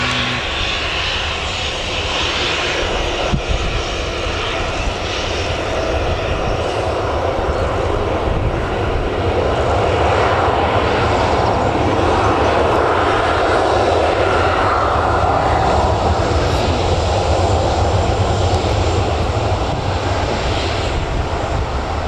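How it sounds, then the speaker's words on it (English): Ryanair airliner taking off at Newcastle Airport, a loud, steady jet engine roar holding broadband and unbroken for the whole stretch, with no voices over it. "Ryanair, hurry up, takes off."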